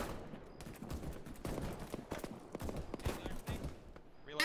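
Gunfire in the military shooter video game Arma 3 comes as rapid bursts and single shots that crack in irregular volleys, a mix of near and distant fire, with a player's voice briefly audible over it.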